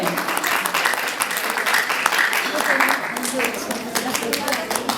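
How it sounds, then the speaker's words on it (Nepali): An audience claps at an annual award ceremony held by a skills-development institute. The clapping is a sustained, dense patter of hands, with voices heard over it. "तालीले बजाइदिनुहोस् न, कस्तो सुनसान माहौल भयो के।"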